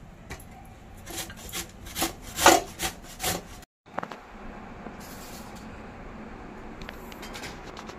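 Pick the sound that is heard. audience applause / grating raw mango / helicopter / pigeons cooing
grating raw mango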